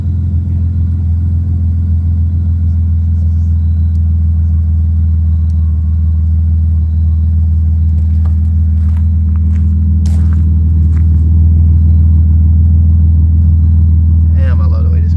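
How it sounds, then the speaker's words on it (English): A junkyard project car's engine runs at a steady, deep low-toned idle, loud and close for the whole stretch, with a few brief knocks and rattles over the top near the end. "I'm gonna start it up for y'all. Got that low tone to it."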